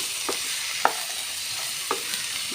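Ivy gourd with turmeric is stirred in a frying pan, giving a steady close sizzle broken by a few soft scraping strokes of the spoon.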